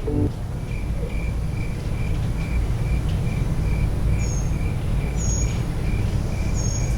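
Crickets chirp in a steady, evenly spaced pulse over a rushing background hiss, with a few faint higher chirps near the end.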